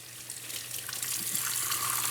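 Cool tap water runs steadily over an alginate dental impression in a sink, a soft close hiss that grows slightly louder as rinsing continues.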